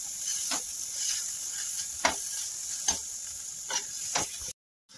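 Tomatoes for masala pav stirred and frying in a pan, a steady soft sizzle broken by several distinct scraping stir strokes at a roughly even rhythm, close and quiet, with no talk.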